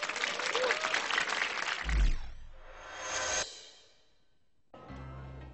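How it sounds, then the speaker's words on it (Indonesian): Open mic stand-up comedy audience applauding a comedian, a strong burst of clapping for two seconds, then a swell of crowd sound, silence, and a short return of applause. "Beri tepuk tangan yang meriah untuk Tina Tun."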